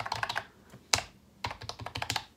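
Fingers type on a MOFii Phoenix rechargeable Bluetooth keyboard, with quick bursts of clacky keystrokes, a louder single strike in the middle, and brief pauses between, heard close and fairly quiet.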